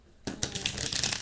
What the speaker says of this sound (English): you got to shuffle the deck a few times